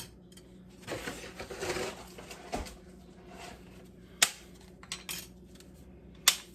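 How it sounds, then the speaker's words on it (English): Dry lasagna noodles snapped by hand over an 8 by 8 baking dish for a Mexican taco lasagna, giving a few sharp, isolated cracks and clicks amid quiet kitchen rustling. "I'll just kind of break the noodles to go in here"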